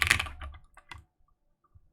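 Wyvern prototype 2 mechanical keyboard, top-mount build with bare switches and plate, no dampening: a quick close burst of crisp keystrokes, then a few isolated clacks with gaps of quiet between them.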